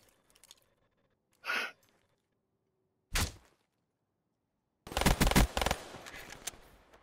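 Gunfire in a shooter video game: a lone sharp shot, then a dense rapid burst of shots that fills the last couple of seconds, with a few quieter sounds in the near-silent gaps before it.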